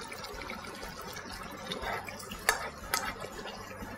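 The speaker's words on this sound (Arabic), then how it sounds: "هحط الصلصة على الكبدة." Soft scraping and stirring in a pan as tomato sauce goes over liver being cooked, with faint sizzling and a couple of sharp utensil clinks against the pan; quiet and close, no talking.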